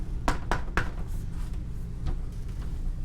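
Solid bathroom door in a used 5th wheel trailer, knocked three times in quick succession with firm, hollow-free thuds, followed by a couple of fainter taps.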